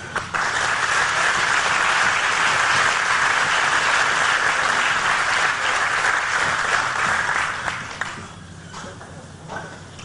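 A crowd applauds warmly at a Texas Tech groundbreaking for a new School of Veterinary Medicine as Chairman Chris Huckabee is welcomed; loud, dense clapping holds steady for about eight seconds, then thins out and fades.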